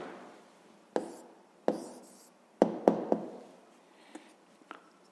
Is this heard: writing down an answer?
yes